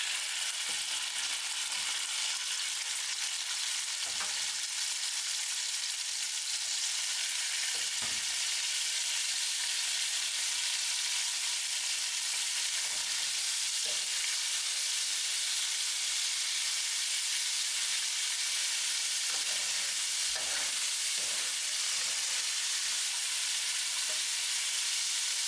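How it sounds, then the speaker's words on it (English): Meat searing in oil in a hot pan for an Italian ragù, a steady loud sizzle and hiss throughout with occasional soft stirring clicks and pops. "While the meat is searing, let's prep the bacon"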